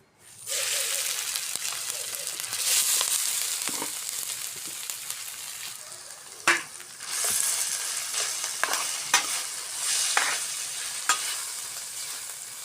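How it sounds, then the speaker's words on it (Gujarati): Freshly grated turmeric frying in hot ghee gives a steady, fairly loud sizzle, with stirring scrapes and a few sharp clinks and knocks from the pan throughout. "ઘી ગરમ થઈ ગયું છે એમાં હવે આપણે નાખી દઈશું આ જે હળદર શેણી લીધી છે ખમણી દ્વારા"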